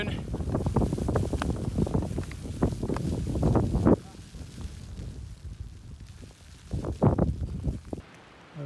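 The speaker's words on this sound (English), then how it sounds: "It is really windy and snowy" Strong gusts buffet the microphone in a snowstorm on Mt. Shasta, loud roaring bursts that rise and fall, with a voice briefly heard amid the wind.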